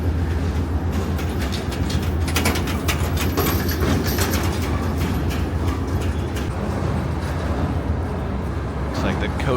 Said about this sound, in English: Now this is a Viewliner style train.